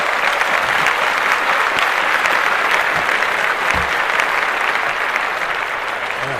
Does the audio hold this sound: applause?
yes